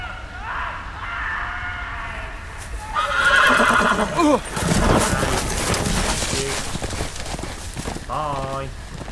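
A horse in a Game of Thrones video game whinnies loudly, and hooves clip-clop nearby. A voice talks over part of it.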